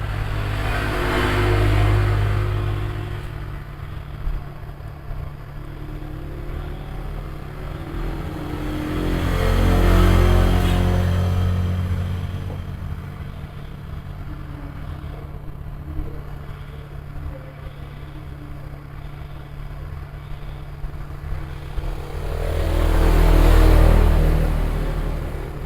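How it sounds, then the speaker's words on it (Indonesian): A hot air rework blower set to 330 degrees with airflow 40 heats a phone circuit board, producing a steady whooshing roar that swells and fades in slow waves as the nozzle is circled over the board. "Pertama kita gunakan blower, settingan panasnya 330, anginnya 40. Kita blower secara perlahan, muter ya sampai merata."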